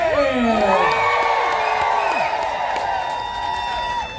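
An audience at a magic show aboard the cruise ship Sun Princess screams, whoops and cheers loudly and continuously, a dense close crowd roar with shrill high voices rising and falling.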